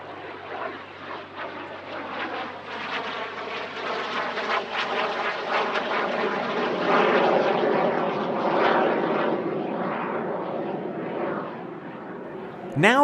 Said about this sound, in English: It's a Red Pelican liveried aircraft that we see here today.